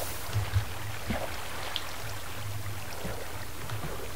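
Flowing water in a Minecraft cave gives a soft, continuous trickling wash with faint scattered drips and no voices.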